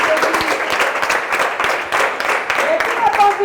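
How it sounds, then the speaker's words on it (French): Studio audience applauding on a French television special, a dense, steady burst of clapping filling the whole moment at close range and high volume. "On applaudit."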